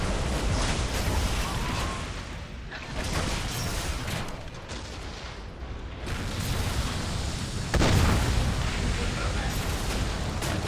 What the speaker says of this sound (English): The supporting artillery is aiding the men as much as they can.